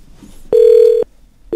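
A single steady electronic telephone tone sounds for about half a second after a radio call-in line drops, clean and loud against near silence, then a second tone starts at the very end.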